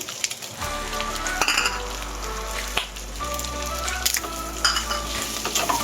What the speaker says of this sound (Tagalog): At saka yung sibuyas, ilagay na rin natin.